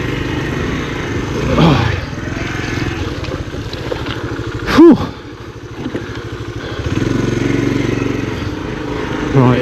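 A 1980 Honda CT110 trail motorcycle labours through deep off-road ruts, its small engine droning and revving loud and close, rising and falling with a brief sharp squeal midway and a short exclamation from the rider.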